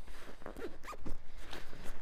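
A mummy-style backpacking sleeping bag zipper rasps in several short, close pulls with brief pauses between strokes, fairly quiet and without any talking.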